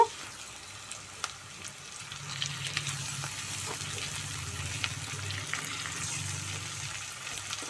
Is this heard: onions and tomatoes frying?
yes